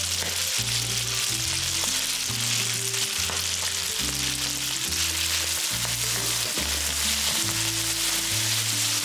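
Cooked spaghetti tossed into a hot pan for carbonara sizzles steadily at close range, a continuous frying crackle running the whole time over a low, rhythmic musical backing.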